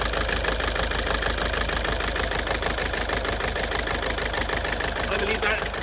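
Toyota Avensis engine running rough with a failed number 2 injector, a steady loud mechanical clatter and knock filling the whole clip, with a voice speaking briefly near the end.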